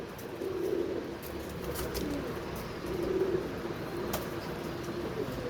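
Pigeons coo softly in repeated low, rolling calls over a steady background hum.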